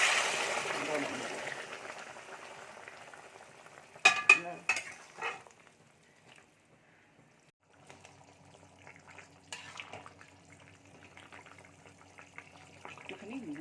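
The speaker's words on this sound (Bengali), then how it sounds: "ভাজা ভাজা হয়ে এসছে, এবার আমি এর মধ্যে দিয়ে দিই গরম জল।" Hot water hits a pan of frying pepper, potato and lentil fritter mixture, starting with a loud hiss that fades. Clattering bursts and softer bubbling, stirring sounds follow, with a few quiet background noises.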